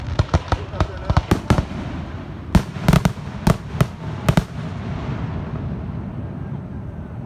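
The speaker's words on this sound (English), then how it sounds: "I love fireworks." Fireworks burst over a lake in a rapid series of sharp cracks and booms, some spaced apart and some in quick clusters, over a steady rumbling background with people talking nearby.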